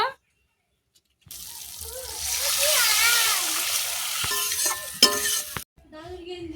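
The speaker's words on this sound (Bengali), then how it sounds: "সরিষা বাটা, মশলা কষানো হয়ে গেছে, জল দিয়ে দেব।" Water poured into a pan of fried mustard paste and spices for a Bengali fish curry, a loud hissing sizzle that swells and then settles, with a few clinks near the end before it cuts to quiet.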